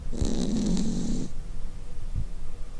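A cat snores close by, one loud rough buzzing breath followed by quieter snuffling.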